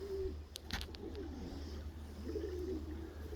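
Pigeons in a loft give low, rolling coos, one near the start and a longer one later, over a steady low hum with faint rustling.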